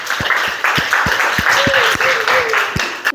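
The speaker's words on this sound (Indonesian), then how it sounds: "Tepuk tangan untuk Steve." Applause from a classroom of students for a classmate during a school lesson, steady scattered clapping throughout with a voice briefly audible underneath.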